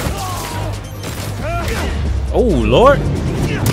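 Gunfire and combat effects in the Spider-Man 2 video game, a busy stretch of booms, whooshes and warbling sci-fi tones under character voices that speak briefly.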